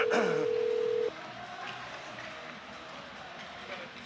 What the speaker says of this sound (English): got a dial tone right now, Joe.